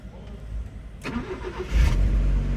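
A Honda Civic with a freshly rebuilt engine, started in neutral without throttle: a short starter crank followed by the engine catching and settling into a steady idle nearby.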